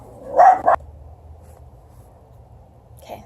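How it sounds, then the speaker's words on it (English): A single sharp dog bark, loud and close, followed by quiet low background hum. "More barking again."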